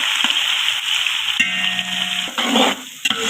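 A kilo of onions goes into hot oil for a chicken and chickpea pulao, giving a steady close sizzle with metallic clanks and scraping of a stirring spoon against the pot.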